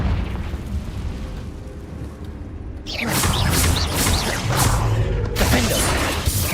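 A Confringo fire spell explodes in the video game Hogwarts Legacy, a sudden loud blast about three seconds in followed by crackling, bursting debris and a second burst near the end.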